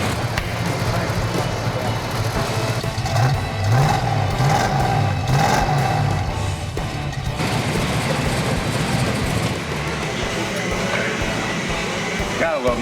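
A 1970 Dodge Charger HEMI engine idles and revs steadily with a low rumble after an exhaust leak repair, while voices talk intermittently in the background.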